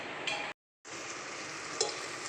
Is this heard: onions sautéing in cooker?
yes